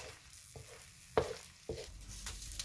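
Egg cooking in a frying pan for a pork, mushroom and cabbage stir fry, with a soft, steady sizzle broken by a few light scraping stirs, faint and close, with no voices.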